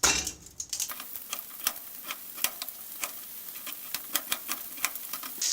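Potatoes fry in a pan with a soft, steady sizzle, broken by frequent sharp crackles and pops that come close together, quiet and near, with no talk.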